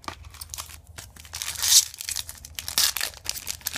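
A Yu-Gi-Oh High Speed Riders booster pack torn open by hand, close crinkling foil wrapper and a few sharp ripping tears over several seconds, no talking.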